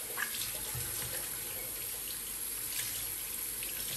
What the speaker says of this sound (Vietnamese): Đấy, như vậy các bạn thấy nước đục nó chảy ra.